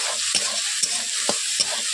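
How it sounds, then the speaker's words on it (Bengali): Ginger and spices fry in a pan for a Bengali fish curry, a steady sizzle broken by four sharp spoon scrapes and stirring knocks at a regular pace, close and fairly loud with no talking. "আদাও ভাজা হয়ে গেছে মশলাগুলো।"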